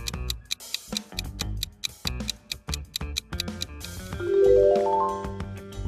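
A OnePlus smartphone notification tone plays alone and up close: a fast, punchy run of percussive clicks and beats, then a bright chime arpeggio climbing in pitch before it fades out.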